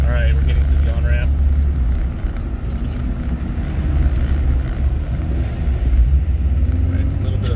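A Jeep Grand Cherokee WJ fitted with a Flowmaster 40 series exhaust accelerates up an uphill on-ramp, giving a steady low, moderately loud engine and exhaust rumble heard from inside the cabin, with some road noise throughout.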